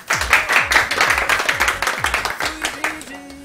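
Applause and clapping from a studio audience on an evening television talk show, a steady burst of many hands close to the microphone that thins out near the end.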